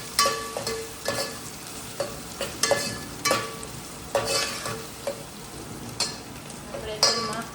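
Onions cook in oil for a Gujarati tinda shaak, sizzling softly as a spoon stirs and scrapes the pan in repeated strokes about once a second, close and clear.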